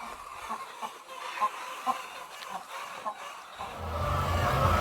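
Chickens clucking outside the coop on a poultry farm in Ghana, scattered soft clucks over a steady farmyard murmur, with a denser low rumble building toward the end.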